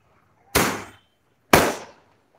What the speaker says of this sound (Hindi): सो ये पटाखे आप ही के लिए बज रहे हैं